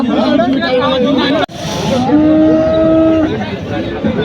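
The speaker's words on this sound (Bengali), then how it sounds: "খুব সুন্দর একটা সার গরু" A bull for beef, with four adult teeth, gives a long, loud moo close by while people talk and a crowd murmurs in the background at the weekly Patgram cattle market.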